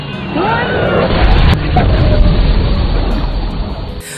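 A loud, booming explosion in a film with crashing debris, followed by a sustained rumbling roar that stays heavy and close for several seconds.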